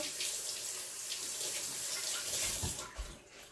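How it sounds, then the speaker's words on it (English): Kitchen tap running steadily while hands are washed at the sink, a constant hiss of water with some splashing near the end, close and without speech. "Let me wash my hand right quick."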